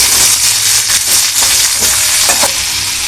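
Indian beans curry being stirred in a pan, with a steady loud sizzle and several scraping strokes of the spoon, no talking.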